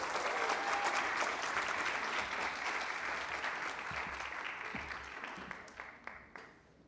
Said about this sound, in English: can we just give Jumaane a round of applause for us